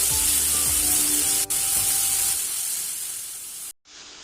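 Onions sautéing in a pan for a beef recipe give a steady, loud sizzle with faint stirring scrapes, fading slightly before cutting off near the end.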